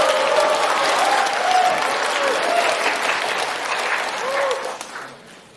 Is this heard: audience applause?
yes